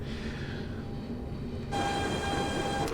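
A BR 187 TRAXX 3 electric locomotive in Train Simulator Classic runs with a steady, close drone. Midway it grows louder and brighter, and a sustained tonal whine joins it. No one speaks.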